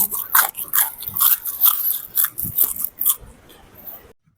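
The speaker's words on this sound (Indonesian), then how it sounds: "Kalian sudah dengarkan sendiri kan betapa renyah dan crispy banget dari risol ini." Crispy fried risol with an egg-free wrapper, snack-sized and spicy, crunched in a rapid series of close, loud bites and chews, each a sharp crackling burst, before the crunching stops and the sound falls to near silence.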